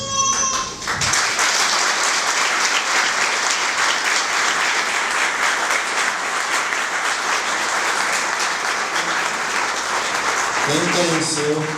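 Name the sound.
audience applause in memory of Carlinhos Mosman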